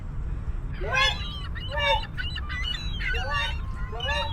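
A voice imitates a seagull during a playful children's learning activity, giving a few high squawking calls in short bursts, close and clear.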